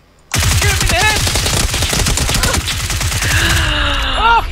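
Automatic gunfire in a shooter video game, a loud rapid burst that starts abruptly and keeps going for several seconds with barely a pause, mixed with game effect sounds near the end.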